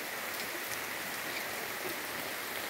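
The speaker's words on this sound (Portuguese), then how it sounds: "E agora voltou a cair com força mesmo a chuva." Heavy rain pours down in a dense, unbroken hiss that stays loud and even throughout, with no talking.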